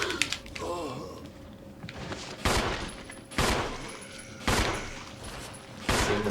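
Gunfire in the Resident Evil remake remaster game: four loud, sharp shots spaced about a second apart, ringing over a quieter background of in-game sound.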